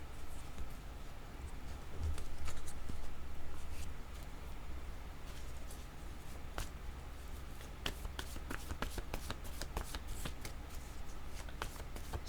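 Tarot cards being shuffled by hand at close range, with rapid crisp riffles and snapping flicks recurring throughout and a steady low hum underneath.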